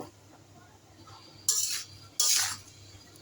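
Raw mango pieces for a sweet-sour pickle being stirred in a pan over raised heat: two short, bright scraping clatters of a utensil against the pan stand out from a quiet background.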